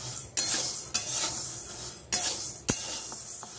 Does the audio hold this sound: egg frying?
yes